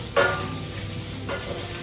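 Chillies fry with garlic and shallots in a pan for a Mangalorean chicken curry, giving a steady close hiss. Two brief stirring bursts rise over the sizzle.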